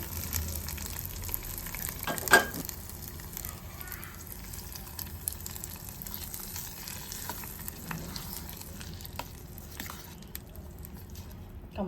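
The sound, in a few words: tempering frying: black gram, curry leaves, garlic, dried chillies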